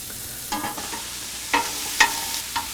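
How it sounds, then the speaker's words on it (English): Onion, red pepper, celery, garlic and shallot purée sautéing in a pan, a soft background sizzle broken by a few sharp scraping stirs of a utensil against the pan. "while our vegetables are sauteing"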